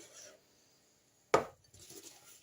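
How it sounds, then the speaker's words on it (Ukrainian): A knife chops through a banana on a board, a single sharp, close knock standing out against quiet kitchen rustling. "банан теж покришу"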